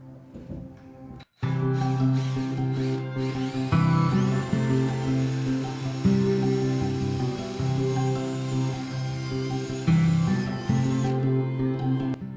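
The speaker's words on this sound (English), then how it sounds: "grab my 1/4 inch drill and we will line up as nice as we can" A power drill with a 1/4 inch bit whirs continuously at close range for several seconds while building a DIY candy machine, its pitch shifting slightly as it bites, after a brief quiet start.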